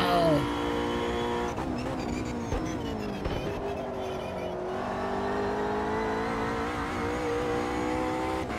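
Race car accelerating at Interlagos in the racing game Automobilista 2, its engine whine climbing in pitch through gear changes, a steady synthetic motor drone under faint background noise.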